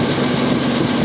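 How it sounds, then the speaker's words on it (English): A Jaguar XJ6 4.2 litre engine runs steadily with a constant hum and a slight drift in pitch as its speed changes, close and continuous with no voices. "Now the engine gets slower, so that's no good."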